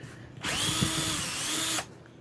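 Ryobi 18V 1/2 inch cordless impact wrench loosening alternator bolts on a tractor: a single loud, steady whirring burst of about a second and a half with rattling hammer impacts, starting and stopping abruptly, with no talking.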